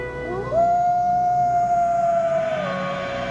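A wolf howl rises and holds one long, steady, clear tone before sliding away, loud and alone with no talk.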